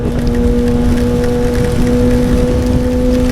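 Steady, dense rain roars loudly and continuously with a low engine hum and two sustained tones underneath, as if heard from inside a vehicle.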